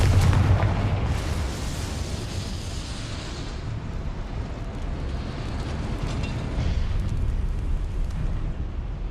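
A Confringo blasting spell exploding in Hogwarts Legacy, heard as a loud booming blast at the start that rolls into a long, sustained roaring rumble.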